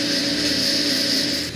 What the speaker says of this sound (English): So let's plug in the vacuum pump.